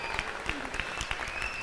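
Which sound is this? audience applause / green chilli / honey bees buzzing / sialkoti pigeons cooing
audience applause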